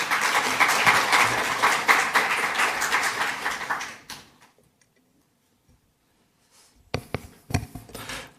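A church congregation at a Friday prayer service claps in welcome as a pastor comes forward, a dense wash of applause filling the first four seconds before fading to near silence, then a few scattered claps and noises return near the end.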